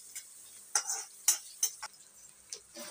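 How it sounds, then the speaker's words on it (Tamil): Onions are sautéed gently over low heat in a pan. Sparse, sharp scraping and clinking strokes of a spatula stand out over a faint, quiet sizzle, with brief pauses between stirs. "ப்ரௌன் கலரில் ஆகிற வரைக்கும் நல்லா வதக்கணும்."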